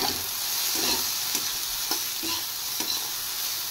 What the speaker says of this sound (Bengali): আমি প্রথমে সয়াবিন ফ্রাই করে নেব।